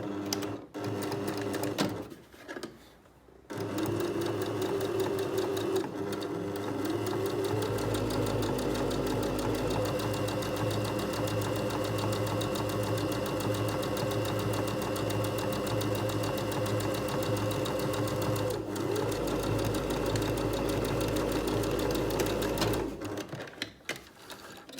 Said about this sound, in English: this is why I want to do some reverse stitches on this one now.